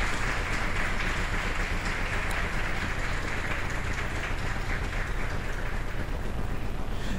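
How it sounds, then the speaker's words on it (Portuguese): Everyone present at a solemn municipal council award ceremony in Parnamirim applauds, a dense, loud, continuous wash of clapping held evenly throughout with no voices standing out. "com os aplausos de todos os presentes"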